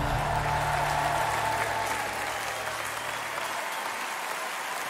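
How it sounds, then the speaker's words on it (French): A large concert audience at a gold records gala applauds after a song, broad sustained clapping over a fading low musical tone, fairly distant and steady. "vous pouvez l'applaudir très fort"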